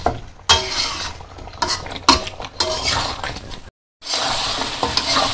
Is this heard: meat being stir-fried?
yes